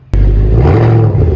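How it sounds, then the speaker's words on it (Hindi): Mercedes S63 AMG with its original exhaust bursts into a loud rev at close range after a brief silence, then holds a deep, rumbling roar. "ये जी AMG का ओरिजिनल एग्जॉस्ट है"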